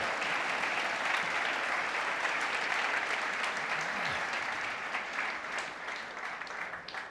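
A church congregation gives a sustained round of applause, many hands clapping in a continuous wash that slowly thins and fades in the last seconds.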